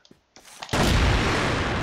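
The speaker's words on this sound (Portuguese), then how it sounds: "deu um tiro na parede." A gunshot striking a wall in the online shooter CrossFire: a few faint clicks and taps, then a sudden loud broadband burst that holds as a dense, roaring wash to the end.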